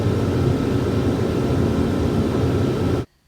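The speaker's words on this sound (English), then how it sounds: "The noise you just heard is the dust collector." A woodshop dust collector runs during lumber surfacing, a steady loud broadband roar with low rumble that holds evenly for about three seconds and then cuts off abruptly into near silence.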